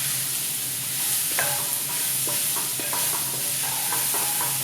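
Opo squash, or bottle gourd, hits a hot pot for a one-pot tajine and sizzles steadily, with scraping stirs and spoon knocks on the pot over a constant frying hiss.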